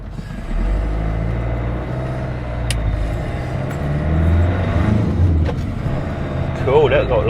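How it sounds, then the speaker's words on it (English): Road traffic from inside a moving van, a steady low engine and road rumble with passing vehicles swelling and fading, occasional hisses and brief sharper noises, while someone talks over it. "Bloody hell, there's lots of traffic"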